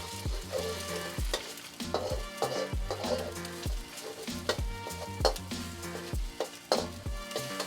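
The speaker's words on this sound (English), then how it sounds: "Add the eggs in and leave it alone for at least 15 to 20 seconds. Let it cook and set, and then scramble." Beaten eggs cooking in an oiled pan and being scrambled for chicken fried rice, soft sizzling under repeated sharp scraping and clacking strokes of a utensil against the pan, fairly quiet, behind faint background music.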